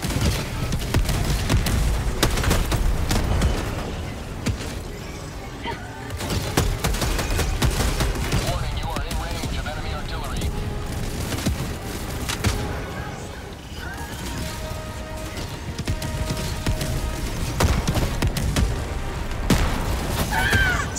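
Gunfire and artillery in the video game Helldivers 2 form a dense, loud barrage of shots and booming blasts that rarely lets up, with voices mixed in.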